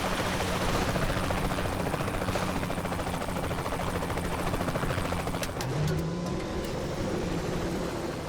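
A helicopter in Saints Row The Third Remastered roars close and loud, its rotor throbbing steadily throughout, with a brief shifting tone near the end.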